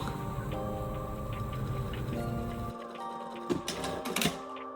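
A sewing machine stitching a corset top seam runs in a steady, quiet mechanical whir, then stops, leaving a few light clicks and taps close by.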